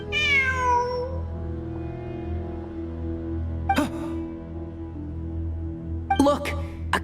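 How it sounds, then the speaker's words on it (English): A cat in Genshin Impact gives one clear, gliding meow at the start, followed by two short bright chimes or taps later over a soft, steady game-music bed. "Look, a cat."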